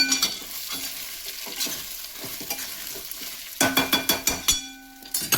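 Stuffed green chilies being stirred in a hot pan, a spatula scraping in uneven strokes over steady frying sizzle, with a burst of sharper rhythmic stirring clatter near the end; no voices.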